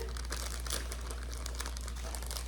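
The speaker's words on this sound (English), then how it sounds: "So I'm taking it out of the baggie." A plastic baggie of keto cake mix crinkles steadily and close up as the mix is worked out of it for a pumpkin crisp, with no talking.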